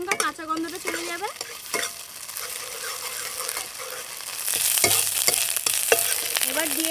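Ginger and green chilli paste frying in a pan, a close, bright sizzle broken by spoon scrapes and clatters that swells louder halfway through, with a few brief tonal squeaks early on and no speech.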